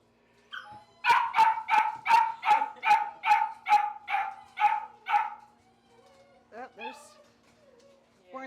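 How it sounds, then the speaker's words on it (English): Puppies yip and bark in a fast run of about a dozen sharp, evenly spaced calls, followed by a pause and a few higher, thinner yelps, close and loud in an outdoor garden setting. "I know it was hard to hear me over all their yipping and yapping"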